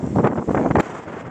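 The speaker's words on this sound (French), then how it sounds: "il y a beaucoup de vent. Vous allez l'entendre de toute façon." Strong wind at the seaside in winter buffets the microphone in heavy, roaring gusts for about a second, then eases into a steady lower rush.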